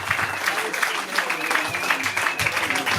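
Comedy show audience applauding the host at a live goodbye show, dense continuous clapping with some cheering and a voice speaking over it.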